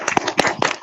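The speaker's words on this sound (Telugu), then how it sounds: "మీరు ఎక్కడ కూర్చారు అక్కడే ఒక క్లాప్ కొట్టండి దీపక్ సార్ కోసం" Audience applause at a Vestige meeting, a dense burst of many hands clapping close by, brief and lively.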